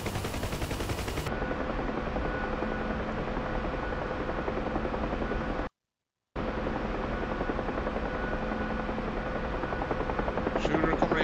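Helicopter coming in to land in the combat flight simulator game DCS, a loud continuous rotor chop and engine drone with a brief dropout in the middle.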